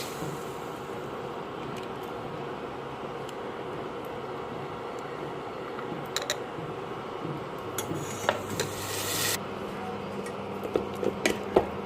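A paste of sesame seeds, groundnut, poppy seeds and coconut is sautéed in a pot for mirchi ka salan, giving quiet scraping and occasional spoon clinks against metal, soft and close throughout.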